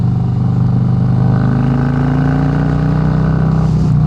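A 2018 Harley-Davidson Road Glide Special with Tab Performance mufflers pulls hard in third gear around 3,000 rpm on a hill climb. The deep V-twin rumble is loud and close, its pitch climbing smoothly with no talking.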